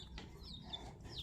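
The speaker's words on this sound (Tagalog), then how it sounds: "Hello mga manok sis!" Backyard chickens cluck softly in short, faint bursts at midday feeding time, heard close by with no talking.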